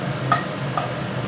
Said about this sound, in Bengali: এবার শুকনো লঙ্কাটা একটু ভাজা করে নেব।